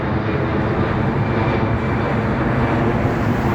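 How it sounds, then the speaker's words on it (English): A large airliner at Heathrow Airport roars steadily and loudly close by, a dense broadband engine rumble that holds constant throughout without breaks. "That plane is huge."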